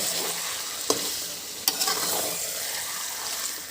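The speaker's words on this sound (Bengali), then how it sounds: "আমি মাংসটা দিয়ে দিয়েছি এবারে আমি এটাকে ভালো করে নেড়ে চেড়ে কষাই করে নেব" Mutton being stirred and fried down in a pan, a constant loud sizzle with a couple of sharp spoon knocks against the metal, close up and with no talking.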